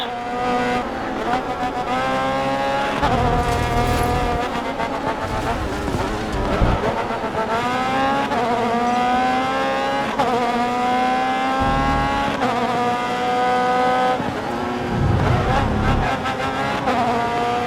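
Race car engines in Grid Autosport roar continuously at high revs, pitch climbing and dropping through gear shifts, loud and steady, with occasional radio voice over the top.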